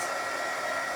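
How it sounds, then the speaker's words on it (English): A craft embossing heat tool blows hot air to dry chalk paint on a bowl, a constant close whirring hiss, steady and loud with no talk. "I like the embossing tool, and this is a coat craft tool."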